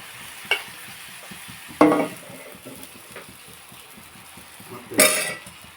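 Dosa cooks on a hot pan with a low steady sizzle, broken by a few sharp bursts of louder hissing and scraping from the spatula, nearby with no voices.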